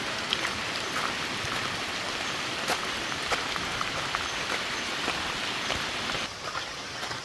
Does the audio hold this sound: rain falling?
yes